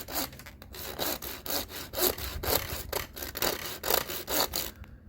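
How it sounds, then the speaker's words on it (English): A fine tooth saw cuts through plastic boiler condensate pipe in quick, even back-and-forth strokes, close and clear, about a dozen rasping passes before stopping. "you need a fine tooth saw, like so. Follow your line round."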